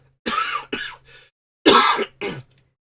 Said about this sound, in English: normally when I start hacking and coughing, it's because I got a lot of phlegm and whatnot